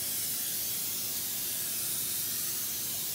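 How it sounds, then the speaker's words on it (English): A continuous, loud hiss of an olive oil aerosol cooking spray onto a pan, held down steadily without pause. "we are gonna spray with kind of like olive oil to stop it from sticking"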